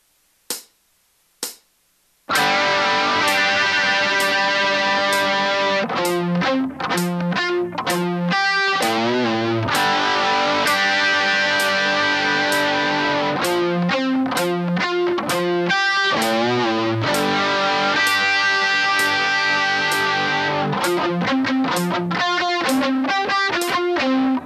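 Two sharp clicks, then a distorted electric guitar plays a slow phrase: ringing sustained chords broken by short muted stabs, loud and up close.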